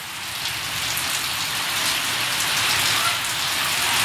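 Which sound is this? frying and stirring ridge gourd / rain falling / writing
rain falling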